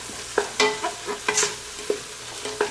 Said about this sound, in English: Let's give this a quick stir.